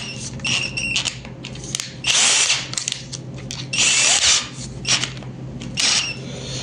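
A power drill fitted with a cleaning attachment runs in short loud bursts, whirring up and stopping several times over a quieter background hum.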